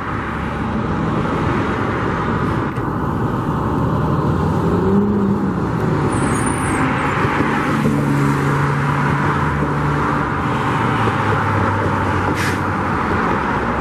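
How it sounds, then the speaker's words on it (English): Steady, loud road traffic rumbles continuously as vehicles drive past nearby, with engine noise swelling and fading under a constant roar. "It's a little loud up here with all this traffic driving by."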